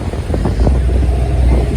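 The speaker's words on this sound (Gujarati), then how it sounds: "એ પવન બહુ ખતરનાક છે" Strong wind at sea buffets the microphone during parasailing, a loud, continuous low roar and rumble with no other clear sounds.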